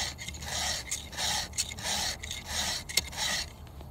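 A file rasps across a chainsaw chain's cutters in steady repeated strokes, about seven rhythmic bright scraping passes with brief pauses between, close and fairly clear with no talk.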